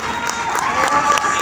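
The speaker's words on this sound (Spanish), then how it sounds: "un fuerte fuerte aplauso para nuestra querida Paquita La Verdad," A lively crowd at a festival press conference cheers and claps continuously, with scattered shouts rising over a steady wash of applause.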